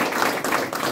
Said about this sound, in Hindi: उन लोगों के लिए जबरदस्त तालियां होना चाहिए।